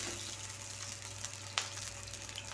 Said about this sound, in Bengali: এবার তেলটা গরম হয়ে এলে তেলের মধ্যে দিয়ে দিচ্ছি ডুমো ডুমো করে কেটে রাখা আলু